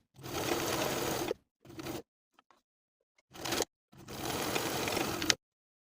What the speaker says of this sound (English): Then we'll sew a buttonhole at the mark transferred from the pattern piece